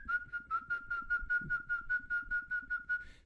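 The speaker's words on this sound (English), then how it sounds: "So I can also do a whistle here" A person whistles one steady, sustained note for about three seconds, pulsing slightly in a regular rhythm, fairly loud and close with low background rumble and no talk.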